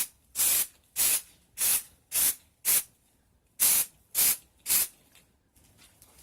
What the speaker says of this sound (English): I should be 6 to 12 inches away from the product when spraying this.